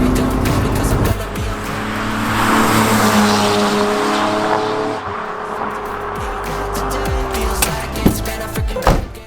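A BMW E36 car drives along a road, its engine droning steadily with rising and falling revs, tires rumbling and occasional sharp clicks and knocks from the cabin, loud and close throughout.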